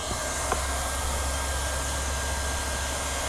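A hot air welder runs steadily on a TPO roofing patch, giving a continuous hiss-like blower tone with a faint tick near the start and no talk over it.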